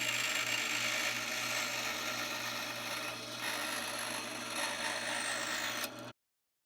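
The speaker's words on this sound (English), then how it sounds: "after we've got these sanded down, and at this point I go kind of to an early 220 to get them close" Sanding of wooden jewelry box trays, a continuous, even rasping scrape that carries on for about six seconds and then cuts off.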